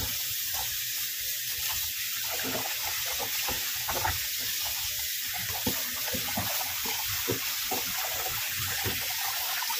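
Guso seaweed rinsed under a running tap, a steady close stream of splashing water with faint handling sounds, no talking.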